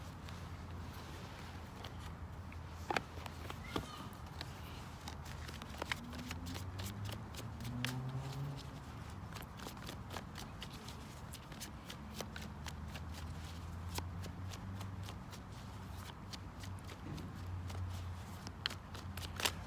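Tarot cards being shuffled by hand close to the microphone, a soft continuous riffling with occasional sharper snaps and a low hum underneath, no voices.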